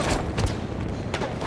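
Battlefield 1 battlefield noise on Amiens with a dull grenade boom and several thuds over a constant roar of combat, loud and close.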